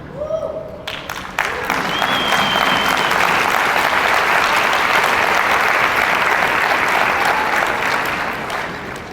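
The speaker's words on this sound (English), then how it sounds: "I do not know why you are clapping" A conference audience breaks into loud, sustained clapping that swells quickly and holds steady, with a few brief voices and cheers near the start.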